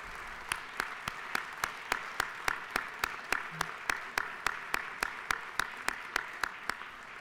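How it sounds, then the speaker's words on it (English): Steady rhythmic applause from members in the Georgia House chamber, a single even beat of unison clapping repeating for several seconds at moderate distance, with no talk over it. "let's give them a round of applause to this amazing group."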